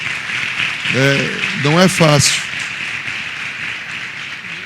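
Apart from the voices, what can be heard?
audience applauding the apostle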